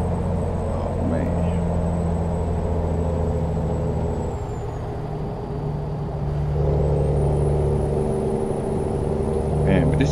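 Freightliner Argosy truck with dual exhaust and a 1650 hp engine in American Truck Simulator, a steady low engine drone with a faint high whine, continuous and even throughout.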